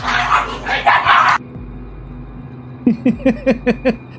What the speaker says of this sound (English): it sounds like the dogs are battling each other